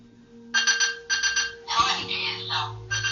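Electronic timer alarm ringing in short repeated bursts of rapid beeping, loud and close, with a voice speaking over it in the middle.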